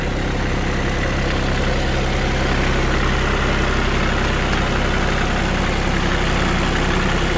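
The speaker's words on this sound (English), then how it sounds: "I'll bump the idle up here, get it up to 1500." A New Holland tractor engine runs at a raised idle of about 1500 rpm, a loud, steady, close diesel drone with constant vibration and no talk over it.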